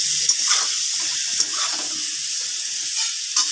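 Cauliflower florets frying lightly in a pan, a steady bright sizzle with small crackling pops throughout, close and continuous with no voices.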